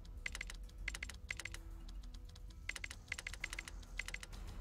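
Rapid clicking from a computer mouse or keyboard comes in quick clustered bursts of sharp ticks while browsing menus in the survival city-builder game Surviving the Aftermath, close and crisp over faint low background noise.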